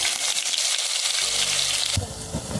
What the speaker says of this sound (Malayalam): ഉലുവ പൊട്ടി വരുമ്പോൾ അതിലേക്ക് നമ്മൾ ഇഞ്ചി വെളുത്തുള്ളിയും പേസ്റ്റ് ഇടാം.